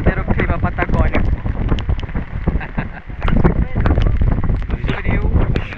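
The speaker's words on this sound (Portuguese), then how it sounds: "Tá muito vento." Strong Patagonian wind near El Calafate roars across a microphone in steady loud gusts, with people talking throughout.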